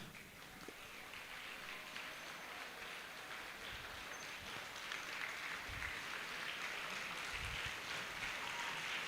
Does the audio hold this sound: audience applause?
yes